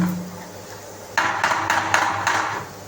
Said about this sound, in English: You have to stir it around so that the spice itself gets mixed properly inside the onions